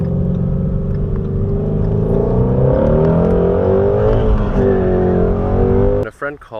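A Ford car accelerates and revs, its engine tone climbing steadily and loudly for about six seconds before cutting off abruptly, with a voice heard around it.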